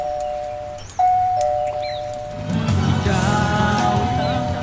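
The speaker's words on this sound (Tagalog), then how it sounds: "May nagdo-doorbell." A doorbell rings once at the iron gate of a house, a clear sustained chime tone that is followed by louder, busier sound.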